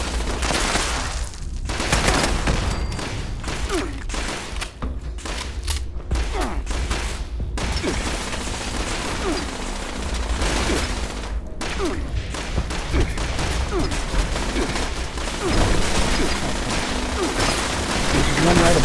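Automated turrets fire in a room in Fallout 76 Wastelanders, rapid overlapping bursts of gunfire rattling almost without pause, loud and dense, with talk in between.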